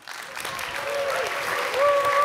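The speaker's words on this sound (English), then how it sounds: "Let's make the maximum amount of noise for Robin." Audience applause welcoming a speaker onstage at the RoboCon conference, a steady wash of clapping that swells slightly toward the end, with a few whistles or faint tones riding over it.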